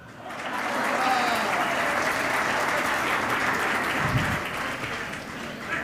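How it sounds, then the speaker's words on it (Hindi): Audience at a Hindi kavi sammelan poetry gathering bursts into steady, sustained applause, a dense wash of clapping that holds for several seconds with a brief low thump near the end. "तालियां उस बच्चे के लिए बजाना।"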